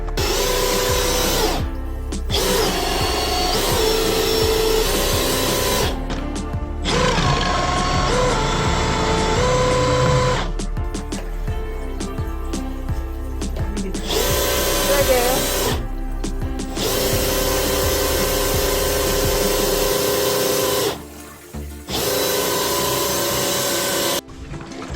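A drain cleaning machine runs steadily in a clogged, grease-filled kitchen sink drain, a loud continuous motorized whir and rattle with brief pauses and restarts, close by, with workers talking intermittently over it.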